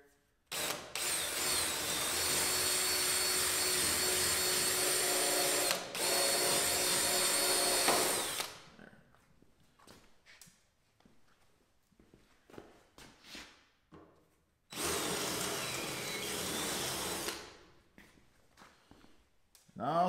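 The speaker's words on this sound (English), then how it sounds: "you can hear my drill kind of slowing down and speeding up" A power drill bores through soft aluminum trim in two long, loud stretches, the motor slowing and speeding with the trigger, separated by quiet gaps filled with handling clatter and light knocks.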